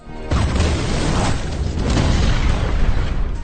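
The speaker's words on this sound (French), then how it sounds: "une bombe explose, tuant Robin" A bomb explosion sound effect arrives as an abrupt loud boom and then rolls into a sustained, dense roaring rumble that holds its level for several seconds without fading.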